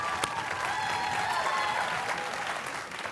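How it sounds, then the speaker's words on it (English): A school quiz-show audience gives the competing high school teams and their coaches a steady round of applause, dense and even from start to finish before fading slightly at the end. "Nice round of applause"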